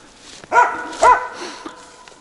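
A hunting dog in the taiga gives two sharp, close barks about half a second apart, followed by a softer yip in a quiet setting.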